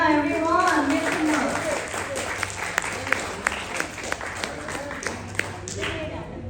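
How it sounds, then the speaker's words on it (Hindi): Clapping at an awards ceremony honoring educators, scattered claps layered with voices and a sung or spoken tone near the start, moderately loud under ongoing chatter. "जोरदार तालियां एवरीवन"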